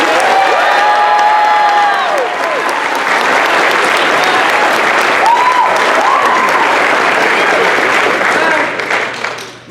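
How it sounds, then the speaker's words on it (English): An audience at a science communication event on fisheries research claps loudly and steadily, with cheers, whoops and shouting voices mixed in, fading out at the very end. "Let's hear some applause for Mia and the beverages"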